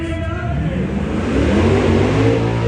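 A turbocharged Dodge Demon at Truck Fest, Xtreme Raceway Park, revs loudly nearby, its engine note holding and swelling over a couple of seconds amid outdoor crowd noise.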